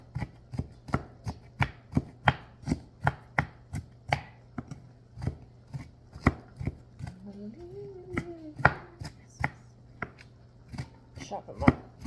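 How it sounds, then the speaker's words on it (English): Knife chopping food by hand on a board for a shepherd's pie with leftover mashed potatoes, a steady run of sharp, close knocks, with a voice briefly talking partway through. "Chop them up."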